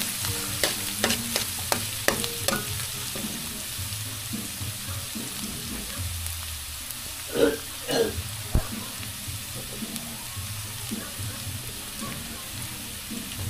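Leftover chao fan rice being stirred and fried in a pan, with a steady sizzle and scraping spatula strokes up close, including a few sharper clatters partway through and no talking.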